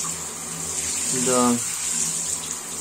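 Water sprays steadily over the fan turbine of a Vox air conditioner as it is rinsed during servicing. The hiss of the stream runs throughout, and a voice is heard briefly in the middle.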